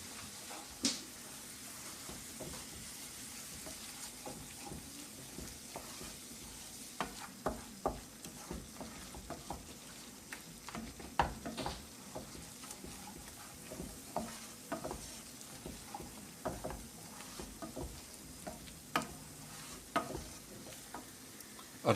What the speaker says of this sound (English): I'm now going to add the 8 spice and turmeric. All you need to do really is cook the rawness out of the spices.